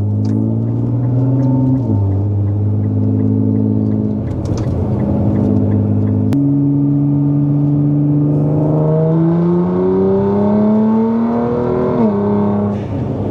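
A car pulls out of a roundabout and accelerates hard through several gears, its engine note climbing and dropping between shifts. Short sharp hisses from the turbo dump valves vent in between.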